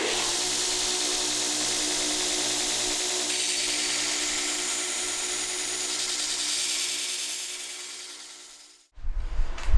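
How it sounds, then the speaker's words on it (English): Belt grinder grinding bevels on a forged-texture knife blade, a loud steady abrasive rasp that holds for about nine seconds, then fades and cuts off, followed by a brief rougher burst at the end. "So when it comes to grinding bevels on a knife that has that forged texture"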